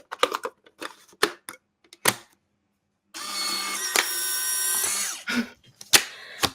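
An old film tray filled with developed pictures is loaded into a camera: scattered sharp plastic clicks and taps, then a steady whirring mechanical motor for about two seconds, followed by a few more clicks, close up and without speech.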